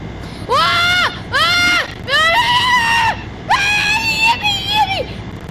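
Video game creature screaming in a Minecraft-style game, a series of five loud, drawn-out rising-and-falling wails in quick succession over a steady background hum.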